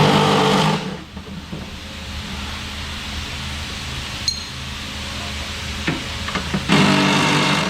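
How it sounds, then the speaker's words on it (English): Work on the front suspension of a 2019 VW Golf R, with metallic clinks and tool clatter as the 16 mm shock bolts are removed, set against a steady background hum in a garage. "I'm going to come up here and remove the two 16 millimeter bolts that hold our shock in"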